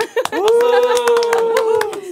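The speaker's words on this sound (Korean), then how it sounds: "박수!" In a small radio studio at a community media centre, a handful of people clap in quick, uneven bursts while a loud voice calls out and laughs over them.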